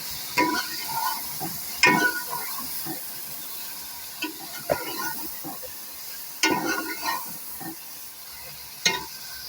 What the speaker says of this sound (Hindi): अभी हम कलेजी की जो है ना बुनाई कर लेंगे।